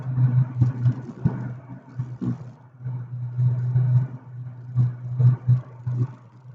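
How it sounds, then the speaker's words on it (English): A car with a 1.8T AGU engine, just restarted during live tuning, runs at a steady, close, low idle hum with slight rhythmic pulsing and faint clatter throughout. "So just turn the car back on."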